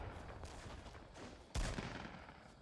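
Overwatch gunfire crackles in a fast, faint stream, with one heavier impact near the middle, no talking over it.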